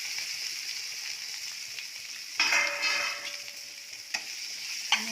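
Potatoes stirred and frying in a pan with salt for spicy misal pav, a steady soft sizzle broken by a few louder scraping stirs of the spoon, close by with no talking.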